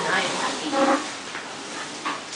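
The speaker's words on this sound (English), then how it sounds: "Jeez, look at all the dogs," Several dogs on the move behind a train ride, giving a few short yips and whimpering barks at moderate distance under a steady rumble and people talking.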